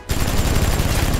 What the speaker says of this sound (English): I didn't know bro was gonna shoot